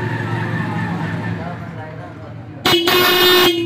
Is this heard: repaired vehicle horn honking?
yes